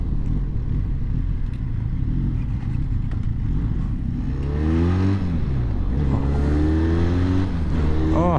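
Benelli Leoncino 500 Trail motorcycle engine heard while riding, a steady close drone with wind noise that climbs and falls in pitch through gear changes in the second half, running continuously without talk.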